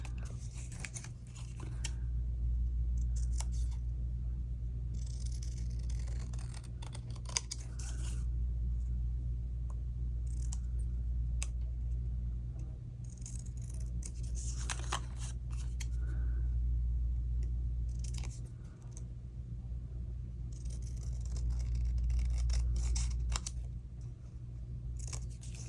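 Scissors trim the white border off paper for a small one-page triple fold pocket craft, with soft intermittent snips and rustles close by over a steady low background hum.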